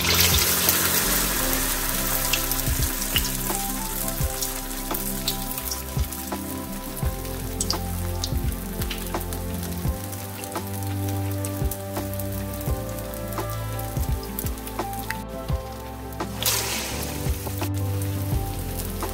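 Onion vada batter frying in hot oil, a continuous dense sizzle and crackle of bubbling oil with scattered pops, close and steady throughout, no voices.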